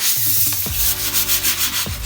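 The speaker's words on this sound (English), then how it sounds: "We're gonna start this off by hitting it with some sandpaper." Sandpaper scuffing rust off the welds of a metal rear bash bar for a Mitsubishi 3000GT, a close, loud, continuous rasping rub with a few stroke changes and no talk.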